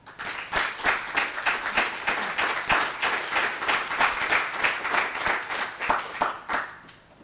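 Audience applause welcoming guests at a Boston College panel event, a steady wash of many hands clapping close and loud for several seconds, thinning out toward the end.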